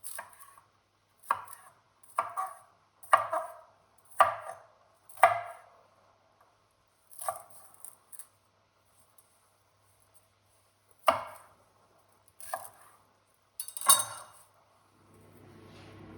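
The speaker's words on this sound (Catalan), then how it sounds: "L'api, el trossegem." Celery chopped with a knife on a board for chicken noodle soup, giving a run of five or six crisp, evenly spaced cuts, a pause, then a few more scattered chops, close and clear.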